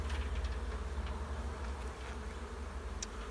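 Honey bees buzzing at a hive during beekeeping work: a steady, close, droning hum that holds throughout, with a brief faint tap near the end and no talking.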